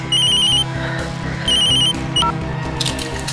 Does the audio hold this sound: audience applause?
no